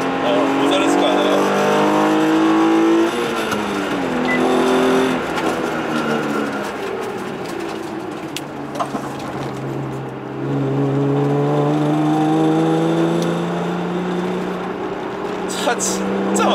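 Manual Genesis Coupe facelift with the 3.8 V6 driven hard through a hairpin, engine note loud and close, rising and falling in pitch as it pulls through the gears, with a driver talking over it.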